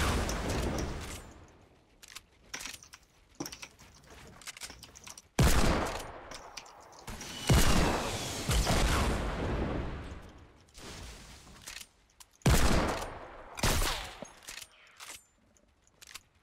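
Gunfire in the video game Fortnite comes in repeated loud bursts and single sharp shots, with booming impacts and quieter gaps between volleys, close and punchy, no talk.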